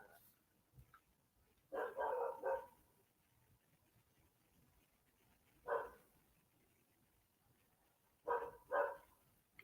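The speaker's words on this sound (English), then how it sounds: "There's a dog barking." A dog barks in three separate bursts of quick, fairly faint barks spread across a quiet indoor background, with pauses of low hum between them.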